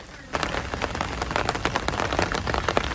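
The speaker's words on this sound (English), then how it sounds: "the sound of the rain on the bivvy" Steady rain patters loudly on a fishing bivvy at a carp lake, a dense drumming of drops that starts abruptly and continues evenly throughout.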